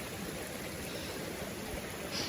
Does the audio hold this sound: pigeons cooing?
no